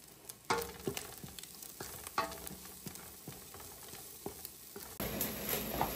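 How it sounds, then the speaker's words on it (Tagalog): Spring onion sautés in a hot pan, a steady close sizzle broken by scraping stirs and light knocks, then a louder burst of frying near the end, with no voices. "Talagyan din natin ng konting spring onion sa gisa para meron siyang aroma."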